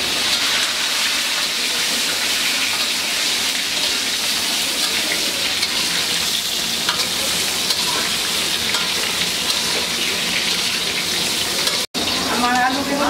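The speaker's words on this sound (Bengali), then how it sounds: "আমার আলু বেগুন ভাজা হয়ে গেছে" Potato and brinjal pieces frying together in hot oil give a loud, continuous crackling sizzle with occasional stirring clatter, close and steady throughout.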